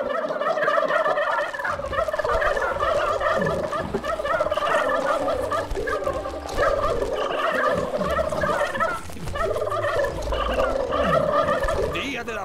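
A crowd of turkeys gobbling in the video game Dungeons 3, overlapping warbling calls that continue loudly and steadily over game background sound.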